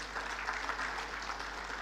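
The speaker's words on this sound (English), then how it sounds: "A big round of applause for him particularly." Faint, distant applause from an audience at an HR conference hall, a soft continuous patter of many hands over a low electrical hum.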